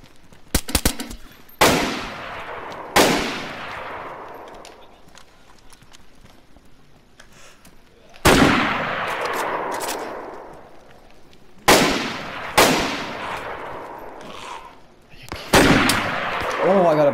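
Loud, sharp gunshots from a zombie shooter video game crack close by in separate bursts, each trailing off in a long echoing decay, with quiet gaps between volleys.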